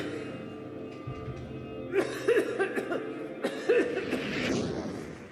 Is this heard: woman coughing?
yes